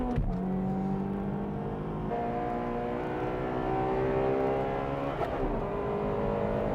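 A Toyota Altezza race car accelerates hard on a track during a Japanese sports-car race, its engine climbing through rising revs with a brief gear-change dip, loud and close and steady throughout.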